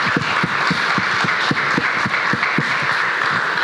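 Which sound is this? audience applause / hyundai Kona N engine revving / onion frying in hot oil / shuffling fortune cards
audience applause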